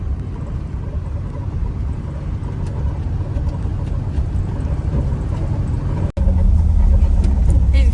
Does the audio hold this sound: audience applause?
no